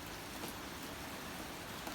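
Steady, even hiss of rain falling, dense and continuous with no pauses or voices.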